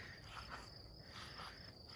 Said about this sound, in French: On sait que les cigales font leur son, leur chant avec leurs ailes